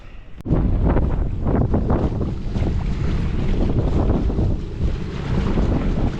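Strong wind gusts across a reservoir during a November pike fishing trip, roaring and buffeting the microphone with a loud, continuous rush that starts after a sharp knock, with no talking.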